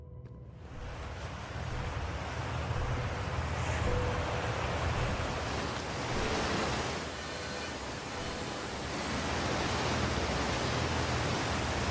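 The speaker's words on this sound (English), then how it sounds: "And the water's so loud!" Loud, steady rushing water fills a dark cave near an ancient Nomai mining site in Outer Wilds, a dense, close roar with no pause and no voices over it.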